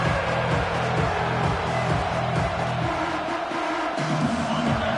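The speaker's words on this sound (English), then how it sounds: "listen to this crowd noise. This stadium is vibrating." Crowd noise inside a college football stadium during a game, a dense continuous roar from a large audience that holds steady and loud throughout, with low rumbling and no clear voices standing out.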